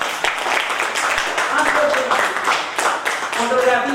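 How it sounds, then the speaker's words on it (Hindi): Seminar audience in Mumbai clapping together, a lively run of hand claps heard under someone speaking loudly over the crowd. "और अपने लिए ताली बजाइए दोस्तों"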